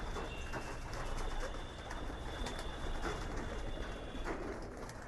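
Pigeons in a loft coo softly and continuously at close range, a low murmuring bed with a faint steady high tone running through it and no clear voices.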